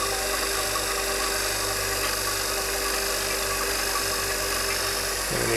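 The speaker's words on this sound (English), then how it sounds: "let the back pump run a bit longer and then we'll see what it does" The back pump of a classic car with a failing solenoid runs continuously, a loud, steady mechanical drone and hum with a constant low tone that holds unchanged throughout.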